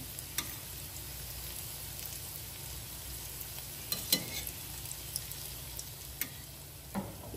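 Fish roe fritters fry in hot oil in a pan, giving a soft, steady sizzle close by, with a few faint clicks and ticks scattered through it.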